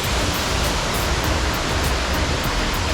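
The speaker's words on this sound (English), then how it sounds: "So there is a good amount of waterfall here." Waterfall in Hualien, Taiwan, a dense, constant rushing roar of falling water, steady and loud with no voices.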